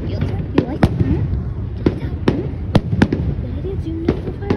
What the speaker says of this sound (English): Do you like zooming into the fireworks?